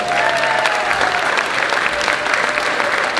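Concert audience claps louder for a raffle winner donating the prize back, a thick continuous burst of applause sustained near and strong from start to finish.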